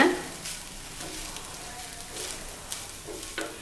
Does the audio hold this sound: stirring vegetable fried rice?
yes